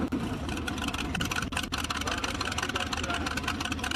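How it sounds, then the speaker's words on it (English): A classic car drifts at Simola, its engine giving a steady, rough, loud roar with continuous rasping texture and tyre noise, and commentary is heard over it. "A little bit of drifting action"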